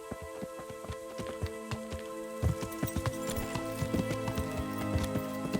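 Horse hooves clip-clopping in Kingdom Come Deliverance, with a steady, even rhythm of hoofbeats that grows a little heavier partway through, moderately close and with no talk over it.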